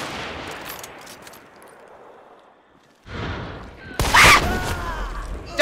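Gunfire in Hunt: Showdown 1896 in a bayou setting, a few distant cracks early on, then louder close shots and a burst of reverberating fire near the end, with voices talking.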